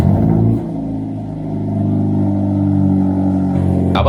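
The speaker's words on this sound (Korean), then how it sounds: "처음 시동을 켜고 느낀 건 배기음이 상당히 크다는 거다." A Hyundai Avante N's exhaust rumbles loud and close at engine start in its default mode, a deep steady drone that dips briefly and then settles, with no one speaking.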